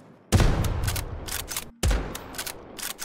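Rapid gunfire from the video game Unturned, two loud sustained bursts of closely spaced shots separated by a brief gap, with no talk.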